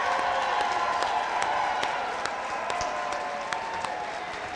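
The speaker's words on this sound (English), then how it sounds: "Let's give them a big round of applause." A seated audience at the Disability Services Day at the Capitol gives the staff a big round of applause: dense, steady clapping from many hands that holds evenly throughout, with only scattered sharper claps standing out.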